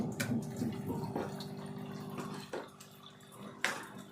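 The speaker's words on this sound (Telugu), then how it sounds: "ఇప్పుడు ఇదిగో వాటర్ పోసుకుందాము" Water is poured into chicken curry cooking in a pan, a faint close trickle and splash with a few brief sloshes and drips, heard alone without talk.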